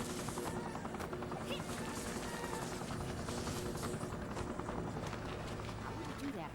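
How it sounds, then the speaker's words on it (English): A helicopter in The Incredibles video game thrums with a steady, rapid rotor chop that runs the whole time, loud and close, with background game sounds and a person talking over it. "I'm just going to wait for this helicopter"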